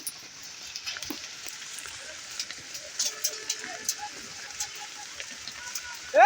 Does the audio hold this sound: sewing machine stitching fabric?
no